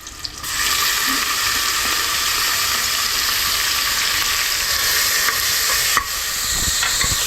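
Onion sizzles and crackles in hot oil with cumin, pepper, cinnamon and other whole spices, a steady bright frying hiss across the whole stretch with a stirring clatter near the end and no voices.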